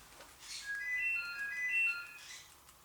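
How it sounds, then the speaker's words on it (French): A telephone rings faintly in a room, a few soft electronic tonal bursts repeating in a short pattern, heard alone without talk. "Le téléphone qui sonne, je réponds pas"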